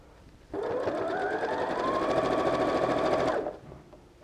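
A domestic sewing machine stitches the last seam of a quilt block, a steady close whirring run of about three seconds that starts and stops cleanly with no talking.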